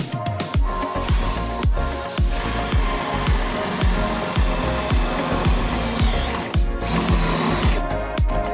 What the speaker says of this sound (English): I'm going to go ahead, see if I can drill these out